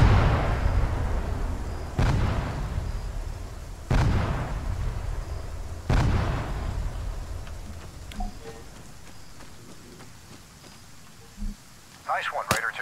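Destroyed enemy stockpiles explode in ArmA 3 as a series of heavy booms about two seconds apart, each with a rumbling tail, fading into quieter pops and crackles while a voice speaks near the end.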